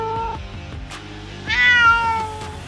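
A cat meows several times, drawn-out and tonal, the later cries louder and higher, close by with a faint background hum.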